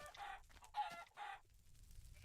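Chicken clucking in Minecraft, three short bursts of clucks in quick succession at moderate loudness, followed by quiet low background noise.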